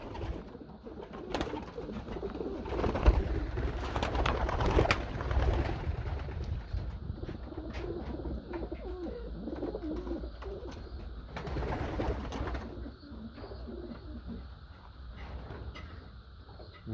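Soft, low ornamental pigeon coos repeat now and then over a constant background hum and rustling, fairly close, with no one speaking.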